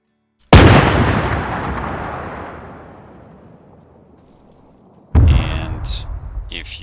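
A Panzer IV's Pak 40 gun fires in the Arma 3 WW2 mod, one huge boom whose roar fades over several seconds before a second loud shot cuts in near the end.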